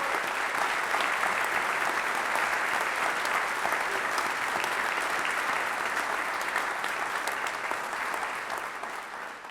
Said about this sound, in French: je pense qu'on devrait les applaudir